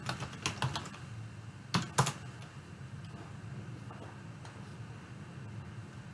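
Typing on a computer keyboard while searching in navigation software, a few quick bursts of close key clicks early on, then sparse isolated taps over quiet room tone, no talking.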